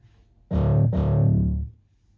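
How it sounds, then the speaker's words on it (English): A single sustained note from an ASM Hydrasynth Desktop synthesizer with heavy distortion, buzzy and gritty, briefly retriggered once, ringing for about a second before cutting off. "let's put some effects on it and let's go straight to distortion"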